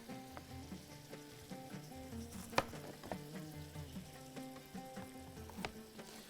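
Onion frying in a pan sizzles steadily at close range, with occasional sharp knocks and clinks of a utensil over the continuous hiss; no one speaks.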